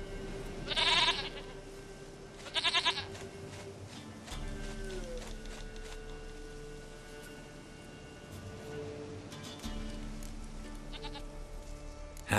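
A goat in The Witcher 3 bleats in several short, near bursts spread across a steady ambient game score, the cries standing out clearly above the music.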